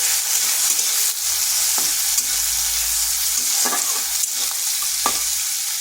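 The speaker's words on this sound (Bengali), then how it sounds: "পেঁয়াজটাকে হালকা একটু ভেজে নিলাম" Thinly sliced onion fries in a pan under steady stirring, with a close, constant sizzle broken by several sharp scrapes and taps of the spatula.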